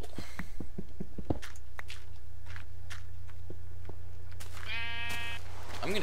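Sheep bleating in Minecraft: a few short blocky footstep thumps and clicks, then a loud nasal sheep bleat near the end over a low steady hum.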